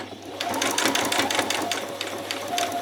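A sewing machine stitches an apron seam, running a back stitch in a steady, close, fast whirring patter of needle strokes that continues throughout.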